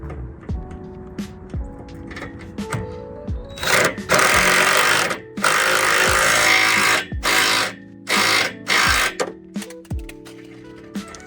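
A power drill drives a screw into a wooden bunk board on a 2022 Bass Tracker boat trailer, with loud high whirring bursts that start and stop in a stuttering rhythm, heard up close among scattered knocks.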